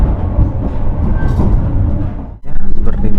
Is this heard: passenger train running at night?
yes